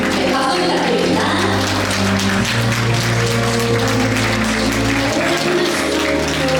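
Guests at a Korean wedding applaud the bride, a steady, dense wash of clapping continuing throughout alongside music and a voice over a speaker system.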